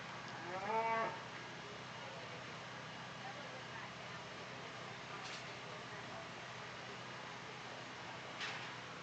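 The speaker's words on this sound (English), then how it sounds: "this is Class 2 commercial crossbred heifers" One brief, fairly loud moo from commercial crossbred heifers at a state fair cattle show, followed by a low steady hum of the show barn with faint distant knocks.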